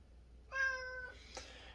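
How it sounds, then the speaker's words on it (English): A pet cat lets out one clear, drawn-out meow nearby indoors while a computer is being taken apart, followed by a faint brief noise in an otherwise quiet room. "Meow."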